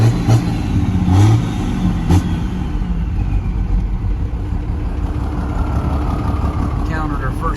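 A Cummins diesel truck engine rumbles loudly close by and rises in pitch as it revs on nitrous, while people talk over the deep steady drone.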